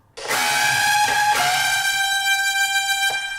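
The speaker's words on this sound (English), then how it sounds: "So this is the sound of about 3 of Charlie's guitars" Three layered electric guitars, heavily distorted through a Decapitator saturation plugin, play a sustained, buzzing chord toward the end of a rock track's outro, loud and alone with no voices.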